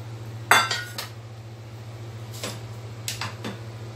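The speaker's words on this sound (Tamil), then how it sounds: "மெதுவாக கிண்டி விட்டுக்கிட்டே இருங்க" Ragi halwa is stirred in a pan on a low flame, with a few sharp metallic scrapes and clinks of the spoon against the pan spaced across a steady background hum.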